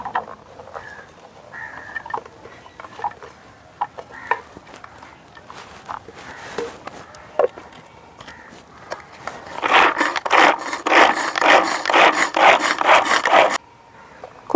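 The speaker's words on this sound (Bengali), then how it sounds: "এখন চপারে চপ করে নেব।" An electric kitchen chopper blitzes ginger, garlic, onion, coriander and green chilli, a loud dense whirring burst in the last few seconds after quieter handling clatter.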